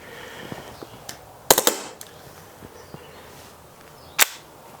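Novritsch SSP-18 airsoft pistol fired in automatic mode, sharp snapping shots, a quick cluster of cracks followed by a lone later pop amid quiet handling clicks.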